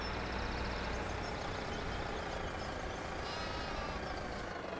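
Sheep bleat in the video game Farming Simulator 17 over a continuous low rumble, their calls overlapping steadily at moderate volume.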